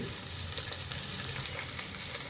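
Onion and chillies fry in hot oil for chicken curry, a steady, dense crackling sizzle with small pops, close up and alone.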